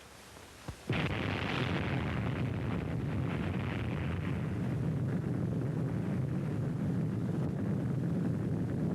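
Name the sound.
atomic bomb explosion, Operation Crossroads 1946 test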